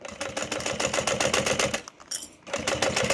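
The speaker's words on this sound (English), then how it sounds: "So I'm just going to sew all the way around like I would normally do." Sewing machine stitching around a bowler bag, with a rapid, loud mechanical clatter of needle strokes. The run pauses briefly in the middle, then resumes at the same fast rhythm.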